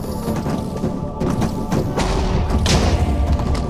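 Dull thumps and booms of explosions in the video game Minecraft, a run of muffled blasts over a dense, continuous game soundscape, with a stronger burst near the end.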